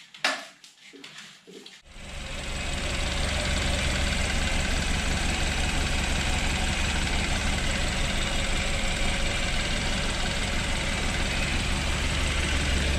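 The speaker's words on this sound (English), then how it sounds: "The engine seems to run okay. There's no more smoke." A rebuilt BMW engine idling, starting after a couple of seconds of quiet handling noise, then settling into a loud, steady, even rumble close by with no talking.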